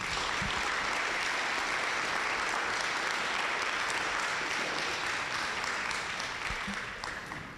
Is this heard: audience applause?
yes